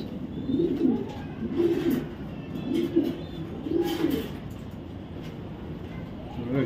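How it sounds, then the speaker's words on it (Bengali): A male racing pigeon in full moult coos in low, repeated throaty phrases close by, with someone talking over the calls. "এটা হচ্ছে নর কবুতরটা, দেখতে থাকুন"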